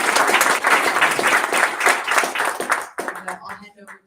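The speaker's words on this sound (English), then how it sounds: "Please join me in a round of applause for our excellent panel." Loud audience applause for a panel at a trade policy conference, dense clapping for about three seconds that stops abruptly, followed by a few scattered claps and brief murmurs.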